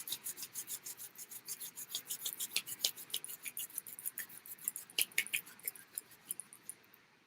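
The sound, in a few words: rubbing hands together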